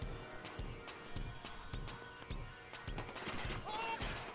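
Repeated gunshots crack in irregular bursts during Watch Dogs 2 gameplay, sharp reports spaced through a busy game soundscape at moderate loudness.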